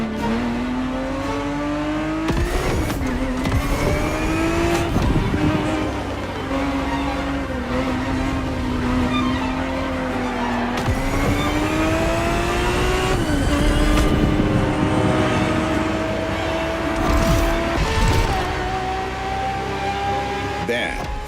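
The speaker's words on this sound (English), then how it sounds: "365 GTB4 is the perfect vehicle for you to experience Ferrari racing as it felt back in the 70s" A Ferrari 365 GTB4 engine races in The Crew Motorfest, a loud, continuous vintage V12 roar that climbs steadily in pitch, with brief dips at gear changes before revving up again.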